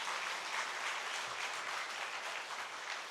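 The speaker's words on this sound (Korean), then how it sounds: "오늘 수고하신 성가대 한번 박수로 격려해 주시기 바랍니다" Steady, dense applause from a church congregation during a Sunday worship service, encouraging the choir; a continuous wash of clapping heard from a distance, moderately quiet and unbroken throughout.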